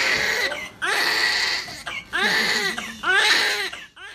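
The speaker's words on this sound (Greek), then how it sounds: "Το πρώτο κλάμα του 2022 στην Πάτρα ήταν γένος αρσενικού" A healthy newborn boy born in Patras cries loudly in three long, strained wails separated by short gasping breaths, close and clear.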